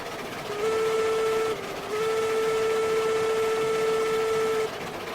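A locomotive in the RailRoads Online video game sounds a long steady whistle in two blasts, a short one and then a longer sustained tone, over a constant rumbling engine bed.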